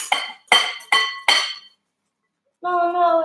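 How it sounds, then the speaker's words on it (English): A whisk mixes milk, oil and eggs in a bowl for children's cheese and ham muffins, making four sharp metallic clinks against the bowl, followed after a pause by a short voice. "give it a little whisk together so it's all combined"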